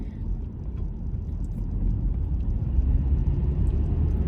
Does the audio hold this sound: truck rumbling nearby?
yes